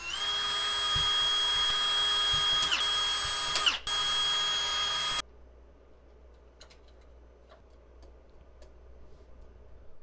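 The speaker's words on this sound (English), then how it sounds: "So we'll go ahead and pre-drill our holes and mount our tweeter within the bracket." A power drill pre-drilling screw holes to mount a tweeter in a Ram truck front door whines steadily at close range for about five seconds, with a brief dip mid-run, then stops, leaving quiet room tone with faint clicks.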